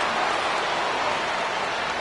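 Rain falls over a football stadium in Charlotte, a constant even hiss that holds steady throughout, with no voices or other sounds standing out.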